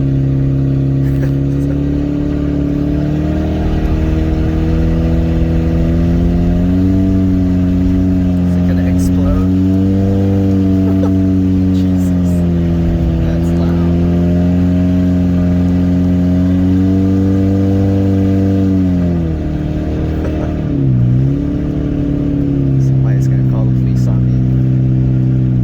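Loud, steady engine and exhaust drone from a 2003 Toyota Prius with its catalytic converter removed, cruising on a freeway, with small pitch shifts and a brief dip toward the end, continuous throughout.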